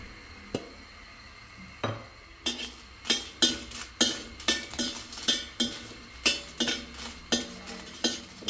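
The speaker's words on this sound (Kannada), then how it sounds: "ಬ್ಯಾಡಗೆ ಮೆಣಸು, ಸ್ವಲ್ಪ ಎಣ್ಣೆ ಹಾಕಿ ಇದನ್ನು ಹುರಿಬೇಕು." Byadgi chillies roast in a little oil in a pan for masala, stirred with quick, regular metallic scraping strokes in a steady rhythm over a faint sizzle, starting sparse and then settling into repeated beats.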